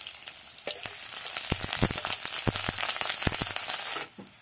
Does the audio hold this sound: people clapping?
no